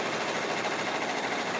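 A home embroidery machine stitches out an in-the-hoop Christmas stocking, giving a steady, fast, even rhythmic whir and patter that holds constant throughout with no voices.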